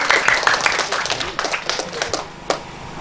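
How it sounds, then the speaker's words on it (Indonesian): An audience claps at an East Kalimantan provincial legal-aid regulation outreach meeting, with a short burst of uneven clapping from a modest crowd that thins out into a few scattered claps. "aplaus dong untuk kita semuanya. Kasih tepuk tangan dulu."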